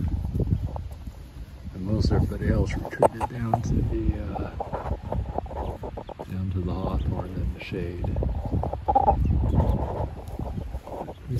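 Chickens and roosters, including large white Brahmas, cluck and call close by in a farmyard flock, with people talking over the steady clucking.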